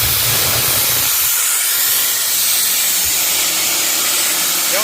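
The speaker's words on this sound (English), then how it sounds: "Now we will release some pressure and the unit will start to pump again." Compressed air hisses loudly and steadily as pressure is vented from a Gardner Denver EBE99K screw compressor, a broad continuous rush with a low rumble underneath that fades slightly partway through.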